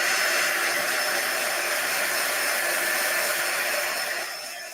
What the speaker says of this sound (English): I'm going to take my heat tool again and dry it